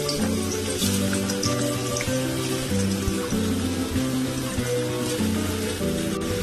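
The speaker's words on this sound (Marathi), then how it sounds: "आता याच्यात हे चिप्स आपल्याला तळून घ्यायचे।" Potato chips frying at medium heat in hot oil in a kadhai make a steady, dense sizzle close by, running continuously without pause, with no talking.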